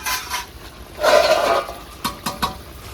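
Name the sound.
pouring a bowl of water into chicken curry in a pot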